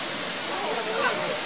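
Sarika waterfall in Nakhon Nayok rushing steadily, a loud, dense, close wash of falling water filling the whole short stretch without pause.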